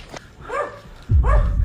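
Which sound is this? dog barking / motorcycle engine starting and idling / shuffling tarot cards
dog barking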